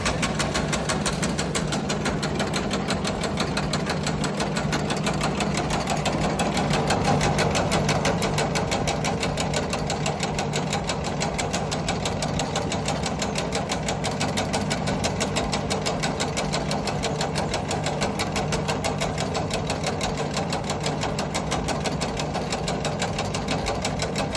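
STvega Dicer industrial machine slicing dried apricots, a steady continuous mechanical drone with rapid rhythmic chatter that runs unbroken and loud throughout.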